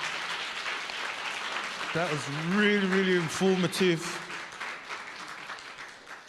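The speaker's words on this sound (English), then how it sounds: "Give her a round of applause." An audience gives a round of applause at a UK sickle cell community event, a steady wash of clapping that runs the whole time while a speaker talks loudly over it.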